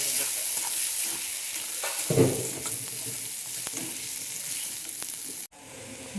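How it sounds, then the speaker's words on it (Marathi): Washed vari rice, barnyard millet, dry-roasting in a pan, a steady hiss with occasional spoon scrapes and clinks as it is stirred, cut off abruptly near the end. "वरचे तांदूळ थोडा वेळ भाजून घेऊ"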